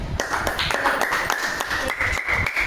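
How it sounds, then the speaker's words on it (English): Applause from a classroom of students for a pupil, a dense patter of many hands clapping close by, continuing steadily throughout. "Round of applause to Kannad."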